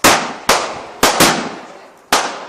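Fireworks explode in five sharp, loud bangs spaced unevenly over a couple of seconds, each blast decaying into a short echoing tail outdoors.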